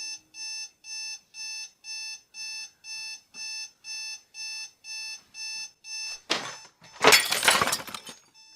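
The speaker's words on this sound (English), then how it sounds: "Alarm clock next to the bed" A bedside alarm clock rings in a rapid repeated electronic beeping pattern, about a dozen evenly spaced bursts, followed by a loud crash and clatter as something breaks.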